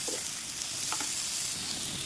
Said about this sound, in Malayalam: ഇതൊന്ന് നന്നായിട്ട് വറക്കാം